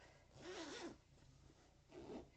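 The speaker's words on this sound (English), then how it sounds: "it has this little zipper closure. So it closes up" A small zipper drawn along a thick, sturdy quilted fabric pouch, two separate close rasping pulls with a short pause between them.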